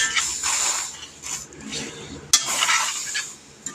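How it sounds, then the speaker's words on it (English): Bourbon apple sauce with brown sugar stirred and mixed in a skillet, with repeated close scraping and clinking of a utensil against the pan over a light sizzle, one sharper knock midway, no voices. "Mix it up really good."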